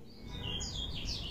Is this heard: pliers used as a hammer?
no